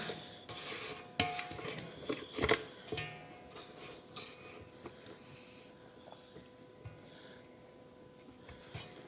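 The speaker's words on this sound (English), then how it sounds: "Going to scrape it down." A spatula scrapes around a mixing bowl of lemon ricotta muffin batter, giving several close, uneven scraping and clinking bursts early on that fade into quieter intermittent scrapes.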